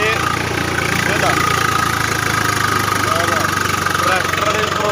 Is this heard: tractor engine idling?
yes